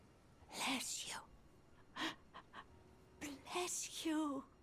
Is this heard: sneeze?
yes